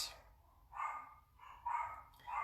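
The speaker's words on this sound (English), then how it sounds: "there's my dog. Somebody's coming to the door. Can you hear him?" A dog barks at someone arriving at the door, three separate muffled barks in an irregular rhythm heard indoors at a moderate distance with no talking.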